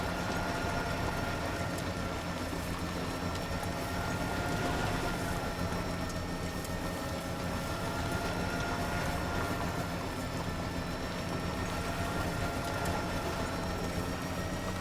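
A steady mechanical hum and rumble from a monorail ride in Death Stranding 2, with constant tonal drone and faint rattling, unbroken and even in level throughout.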